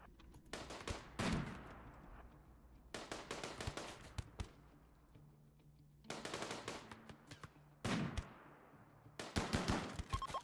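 Bursts of automatic weapon fire from a Rimworld colony firefight, coming in several loud volleys separated by short pauses, with rapid shots rattling close by and no voices.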